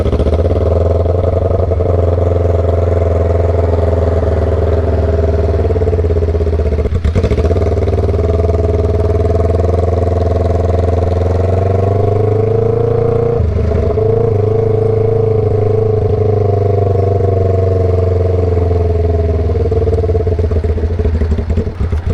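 A carbureted 2009 Kawasaki Ninja 500 EX500 engine idles while warming up, a loud, steady close-up rumble that holds for over twenty seconds with slight wavering.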